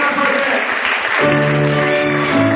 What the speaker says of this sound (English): Keep clapping, everyone.